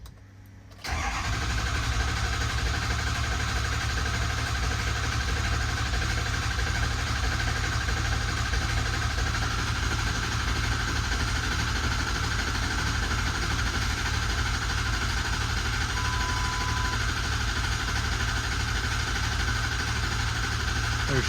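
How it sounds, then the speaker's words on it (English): Ford 6.0 Powerstroke diesel engine cranking for a long time with air in its fuel system, then catching and running, a close, steady mechanical drone that holds through the clip, with faint talk underneath. "She's gonna be a long crank because we got the whole system full of air."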